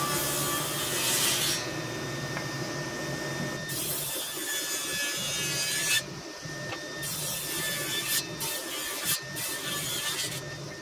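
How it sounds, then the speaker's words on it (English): A hand saw rasping back and forth through wood stock as the kerf is recut, steady close scraping strokes with brief breaks between passes. "Run it in until it starts to bind, pull it back out, and recut the kerf over and over again until it cuts right through."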